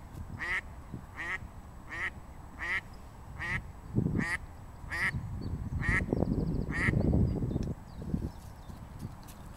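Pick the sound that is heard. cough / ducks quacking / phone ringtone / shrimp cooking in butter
ducks quacking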